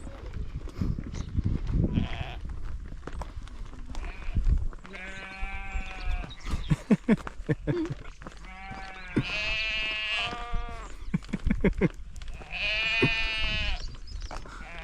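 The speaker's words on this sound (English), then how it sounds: "Is that sheep dead?" Several sheep bleat in drawn-out, wavering calls at close range, in three main bursts with quieter bleats between, over outdoor background noise.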